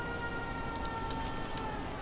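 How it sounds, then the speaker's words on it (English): A siren wails steadily in the video game Fallout 4, a continuous tone held over a dense, loud bed of game noise for the whole stretch. "that's because the siren's going off."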